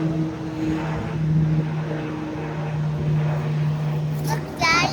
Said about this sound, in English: Plane, it's the plane